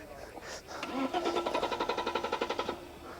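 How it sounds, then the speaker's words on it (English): A BMW that won't start cranks at an outdoor Mercedes, Porsche and BMW car show, the starter motor churning in a fast, even rhythm for about two seconds without the engine catching, close to the listener, with voices nearby. "non-starter BMW"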